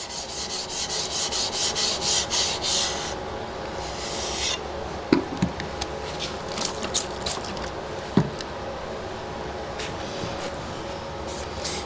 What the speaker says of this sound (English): Now I'll stop and give that another quick flattening.